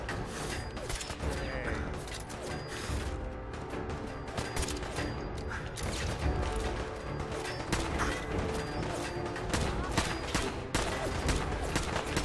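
Dense, rapid gunfire crackles nonstop in Fallout 4, sharp repeated shots layered with mechanical clatter, loud and continuous throughout the fight.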